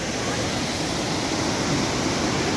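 Steady, dense rushing of a small waterfall at Blue Lake in Giresun, a continuous broadband roar of falling water with no breaks, close and fairly loud.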